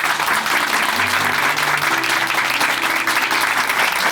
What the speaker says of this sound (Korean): 큰 박수 다시 보내드릴게요.